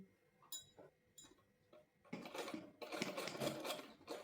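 Sewing machine running alongside elastic on a straight palazzo pant, a few short stitching bursts early, then a louder sustained run of stitching near the machine, with no talking.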